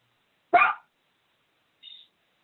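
A single short, sharp dog bark cuts through a quiet zoning board meeting room, followed about a second later by a faint high squeak.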